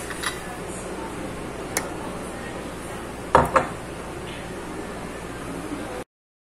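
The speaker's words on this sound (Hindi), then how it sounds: "ऊपर से ढक्कन देना है।" A metal lid is set on a pan of yeast-free kulcha pan pizza over a low flame on the stove, making a sharp clank followed by a second lighter knock against steady background hiss.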